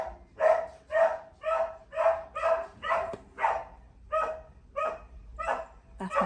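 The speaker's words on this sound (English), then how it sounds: "That's my dog." A dog barks in a regular run of about eleven loud, evenly spaced barks, close by and alone with no talk over it.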